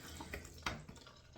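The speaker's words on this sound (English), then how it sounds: "warm this up under hot water" Hot water running from a tap to warm up a shaving razor, a steady close splashing stream with a small clink partway through.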